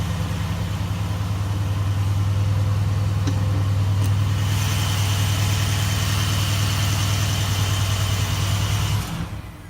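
A 4-liter V8 in a 2018 Mercedes-AMG GT C Roadster idles close by with the hood up, a steady low rumble holding evenly for about nine seconds before it cuts off near the end.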